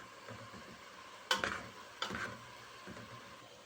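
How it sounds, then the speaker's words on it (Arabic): Food being stirred and tossed in a pan on the stove, with two sharp scraping strokes standing out over a low, steady sizzle, close and fairly quiet. "طول ما هي على النار لازم بقى اشوحها كده يمين وشمال زي ما انتم شايفين كده لحد ما تاخد لون بسيط"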